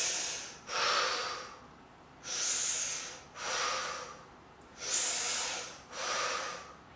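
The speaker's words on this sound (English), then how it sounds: "I'm going to breathe in my mouth" Slow, deliberate breaths drawn in through the mouth during a relaxation exercise, six airy, hissing inhalations and exhalations in a steady rhythm, close and fairly quiet with no talking.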